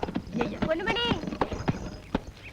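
A horse pulling a cart clip-clops at a steady trot, sharp hoof knocks repeating close by while people talk over them throughout.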